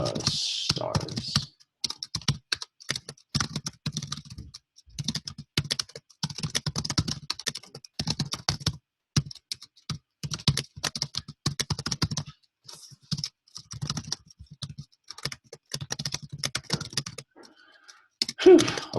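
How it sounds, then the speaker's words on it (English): Fast, continuous typing on a computer keyboard, close and crisp, clattering keystrokes in irregular bursts with short pauses, no voices. "a lot of typing"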